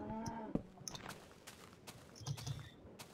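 Cows in the Minecraft Tekkit modpack mooing faintly, a couple of low drawn-out calls amid quiet game clicks and footstep sounds, no talking.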